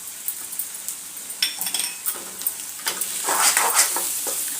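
Half a teaspoon of turmeric being stirred into onions frying in a pan for a tamarind-leaf dried prawn curry, with a light sizzle under scattered spoon scrapes and clinks that build into busier stirring near the end.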